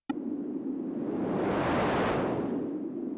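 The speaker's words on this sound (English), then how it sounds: "a peaking noise mode or band pass" A Korg minilogue xd synthesizer's band-pass filtered noise burst, a steady rushing whoosh like surf, sweeps its focus up and back down over about three seconds before stopping abruptly.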